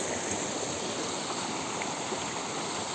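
A large stream of water rushes steadily at an outdoor spot in the Konkan countryside, a constant broadband wash with no pauses and no voices.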